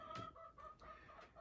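A chicken clucks near a fireplace inside a tiny house with a new mudroom, a few short clucks in a row, close and fairly soft, with no talking.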